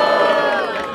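Loud crowd at a Brazilian freestyle rap battle, Batalha da Aldeia in Barueri, SP, roars and cheers in a dense, sustained wall of shouting voices filling the whole moment.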